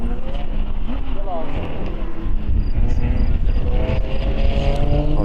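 A Lamborghini GT race car in the ESET Cup GT Cup race at Balaton Park blasts past on track with a loud, continuous engine roar, with a commentator talking over it.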